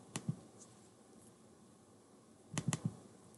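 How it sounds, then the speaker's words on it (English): A computer mouse clicks quietly up close in a still room: one quick double-click, a pause, then another fast cluster of clicks. "I'm going to double click on it."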